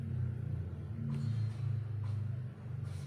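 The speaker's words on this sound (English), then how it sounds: "That engine is running." An engine runs with a low, steady rumbling hum, its throttle raised by a slider, and the pitch shifts slightly as brief higher clattering bursts recur every second or so.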